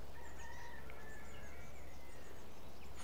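Faint bird calls chirp and whistle intermittently over a steady low outdoor rumble in the Somerset countryside near Wellington, with thin high tones drifting in and out.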